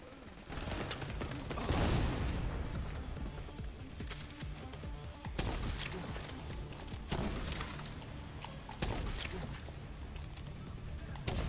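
A mounted turret in Tom Clancy's The Division 2 fires in loud, dense bursts of rapid gunfire, a near-continuous barrage with sharp cracks and shifting intensity that fills the whole stretch, with no pauses.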